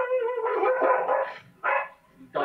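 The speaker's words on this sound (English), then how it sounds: "Dogs in this neighborhood, man." Dogs in a Colombian neighborhood bark and yip in a few short, close bursts with brief quiet gaps between them, and no one speaks.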